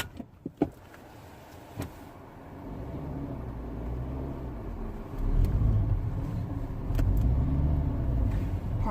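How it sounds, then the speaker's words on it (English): Interior of a Volkswagen Jetta with a manual gearbox being driven, engine rumble rising in a steady low drone, a few sharp knocks and clicks early on, then a louder surge of road and engine noise after a gear change. "Pardon my driving, it's been a while since I've driven a stick."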